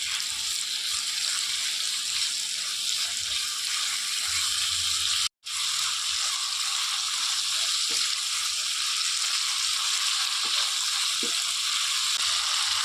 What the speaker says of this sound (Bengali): মশলাগুলোর সঙ্গে চিকেনটাকেও খুব ভালো করে ভেজে নেব।